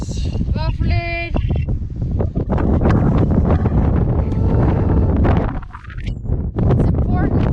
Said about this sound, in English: It is windy, it is raining a little bit.